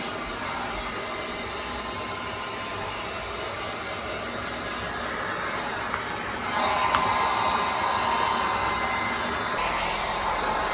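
A heat gun blows steadily on foam to texture it for a Halloween coffin prop, giving a continuous moderate airy whoosh with a faint whine that grows slightly louder partway through.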